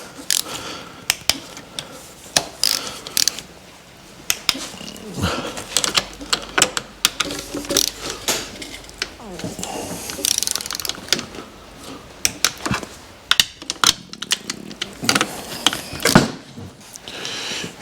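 A ratchet tightens the throttle body to head bolts on a Subaru WRX engine during assembly, giving rapid close clicking bursts with short pauses between turns, clear and fairly loud with no talk.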